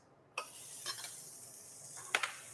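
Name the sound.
onions sizzling in a pan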